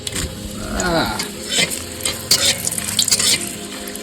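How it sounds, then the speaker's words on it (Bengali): Dried red chillies frying in hot oil in a wok, with a busy sizzle under constant stirring and scraping, plus some spatula clatter near the end. "এই দেখো শুকনো লঙ্কা ব্যাস, এই কড়া করে ভাজা হবে"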